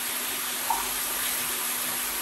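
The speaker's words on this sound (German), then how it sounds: "Jetzt gibt es die Curry dazu und dann mit Wasser aufgießen" Water pours into a pan of curry for stuffed turkey roulades, a steady, fairly quiet rushing and splashing that runs continuously through the short moment without talk.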